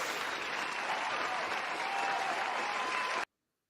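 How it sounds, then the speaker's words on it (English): Steady applause from a small audience, continuous clapping at an even level for about three seconds before cutting off abruptly, with no talking over it. "we'll just give you an applause, Harley"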